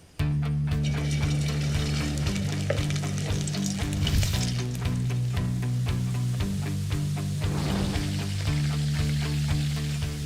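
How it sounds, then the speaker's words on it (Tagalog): Cornstarch-coated chicken bits frying in a pan, a loud, steady close sizzle and crackle of hot oil with occasional stirring scrapes, continuous throughout. "bibigyan muna natin siya ng ibang texture by frying"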